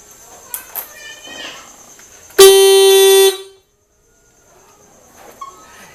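A steady motorcycle horn blares for about a second, loud and close, set off by a simple homemade anti-theft alarm, after some faint background chatter and brief chirpy sounds.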